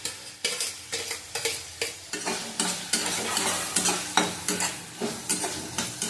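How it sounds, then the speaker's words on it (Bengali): Chopped onion, capsicum and chili sizzle in a pan while being stirred for a prawn recipe, with soft scraping strokes of a spatula landing in a steady rhythm over a continuous frying hiss, close and moderately quiet. "ভালো করে একটু ভেজে নেবো।"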